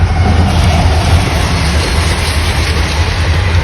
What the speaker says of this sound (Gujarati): જો હવે અમારે આવે છે ટ્રેન